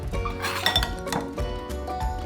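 A spoon clinks and scrapes against a bowl while mixing fresh salsa with cilantro, several quick metallic knocks and stirring rattles, close and clear without speech.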